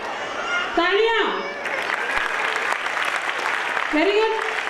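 Audience applause at a school annual gathering fills the hall as steady, dense clapping, while an announcer's voice rises over it twice to urge the crowd on.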